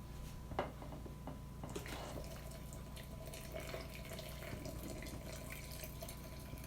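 Grease drains from cooked hamburger meat through a holed strainer, with faint trickling, dripping and small splashes over a low background hum, no talking.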